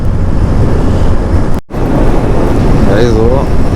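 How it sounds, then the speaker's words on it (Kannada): Strong wind roars and buffets the microphone on a long-distance motorbike ride near Chitradurga, a loud continuous rushing noise that drops out briefly, with a voice speaking underneath near the end. "ಇದು ಏನು ಗಾಳಿ ಬಿಟ್ಟೈತೆ ಅಂದರೆ ಸಿಕ್ಕಾಪಟ್ಟೆ ಗಾಳಿ ಬಿಟ್ಟಿರೋದು"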